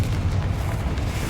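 A Confringo fire spell blasts in Hogwarts Legacy, a loud, dense booming explosion with heavy low rumble that fills the whole moment without pause.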